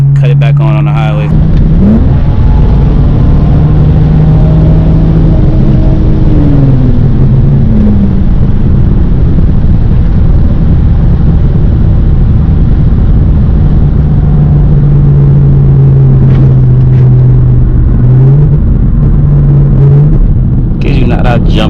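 A BMW E92 335i driven hard on a highway, its exhaust droning loudly and steadily with wind and road roar, the engine note rising and falling through gear changes and turbo spooling.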